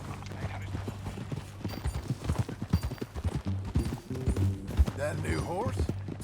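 Steady clip-clopping horse hooves with rhythmic thuds in the video game Red Dead Redemption 2, heard under a man and woman chatting, with a brief whinny near the end.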